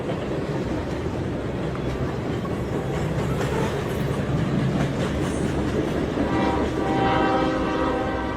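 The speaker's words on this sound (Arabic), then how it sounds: "هذا الفيديو تصور سنة 2011 أثناء مرور قطار" A passing train rumbles loudly and steadily throughout, with rhythmic wheel clatter and a horn tone swelling near the end, filmed in 2011 at a rail crossing as a second train follows close behind the first.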